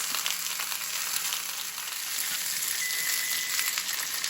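Unseasoned chicken fries in a pan with a continuous, fairly quiet sizzle and crackle, fine spattering pops scattered evenly throughout.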